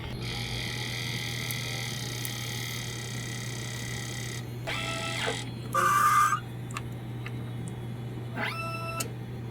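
A DTF printer runs a nozzle check, with steady electronic whine and hum, several bursts of rapid mechanical clicking from the moving print head, and a brief louder tone in the middle.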